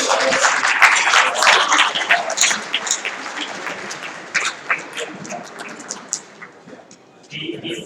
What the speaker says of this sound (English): Please join me for a big round of applause for Sonia